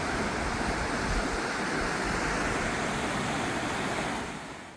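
Loud rushing mountain stream in a Seorak valley, a dense, steady roar of water close by that fills the whole clip without break and eases slightly at the very end.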